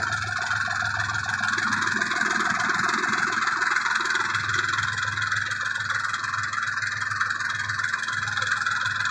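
A minitractor engine runs steadily and loudly while potatoes are planted in a field, a constant mid-pitched chug with a faint murmur of voices underneath.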